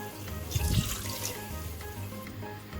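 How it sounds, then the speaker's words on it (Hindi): Water splashes into a pot of marinated beef pieces for tikka boti, a short, fairly close pour in a home kitchen, rising briefly and then settling into a soft trickle. "अब मैं इसमें पानी डालूंगी।"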